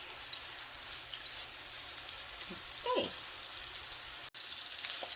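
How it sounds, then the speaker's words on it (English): Chicken breasts searing in butter in a frying pan, producing a steady, moderate crackling sizzle that continues through the clip with a short cut near the end. "pan searing this for about a minute on this side"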